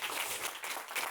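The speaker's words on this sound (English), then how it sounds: "A big applause for Susan." Brief burst of audience clapping for a forest ecology speaker at the close of her session, a close, bright patter of many hands lasting about a second.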